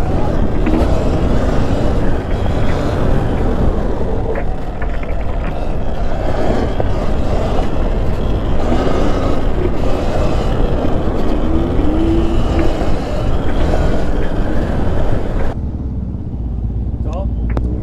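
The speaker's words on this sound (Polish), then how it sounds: "W kasku słyszę jakieś motocykle jeżdżące." Motorcycles riding past, heard from inside a rider's helmet: a continuous loud muffled engine and wind rumble with passing revs rising and falling, fading quieter near the end.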